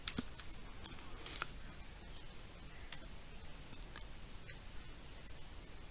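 Soft, close keystrokes on a computer keyboard come as scattered quick clicks over faint background hiss, with no talk, during setup of a Microsoft 365 custom domain.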